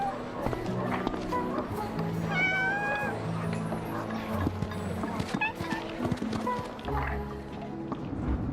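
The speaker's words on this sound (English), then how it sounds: "Where the heck's my cat?" Cat meows in the Honor of Kings video game, several rising and falling mews over music and game effects, with a voice talking partway through.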